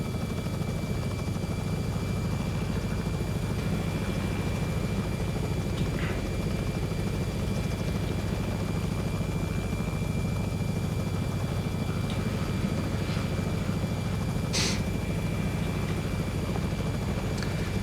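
A Robinson R66 helicopter in the X-Plane 11 flight simulator drones with a steady, loud turbine whine and low rotor hum, constant throughout with a few faint clicks.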